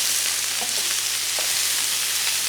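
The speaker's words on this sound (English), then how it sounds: "get a piece of vegetable, pop it in the pan, and if it starts to sizzle" A vegetable sizzles loudly and continuously in hot oil, a dense crackling hiss with faint pops and no talking.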